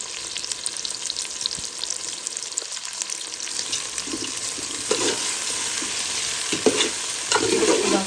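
Whole spices (cloves, cardamom, cinnamon, black pepper, fenugreek and bay leaf) fry with salt in a pan for a mutton curry, giving a soft, steady sizzle broken by several louder scraping stirs.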